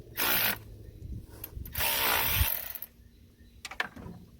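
A power tool, likely a ratchet or impact driver, spins off a 10mm bolt on a Honda Civic power steering pump in a few loud bursts, each a second or so, with brief clinks and handling noise between.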